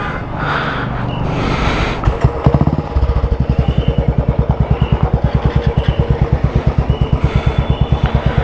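A Royal Enfield Classic 350 motorcycle starts off, then settles into a loud, close, steady thumping single-cylinder beat as it rides along, with rhythmic exhaust pulses and no talk.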